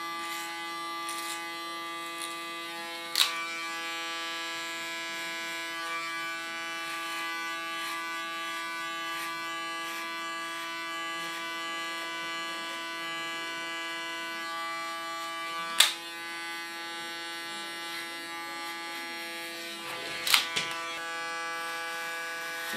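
An electric hair clipper cuts hair during a haircut, giving a continuous steady buzz with a strong constant hum that runs throughout, broken by a few brief sharp clicks and a short dip near the end, with no talk.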